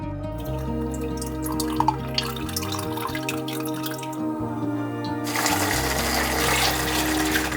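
Freshly pressed grape juice runs and drips steadily while grapes are processed by hand, heard close up under continuous background music that grows brighter and noisier in the second half.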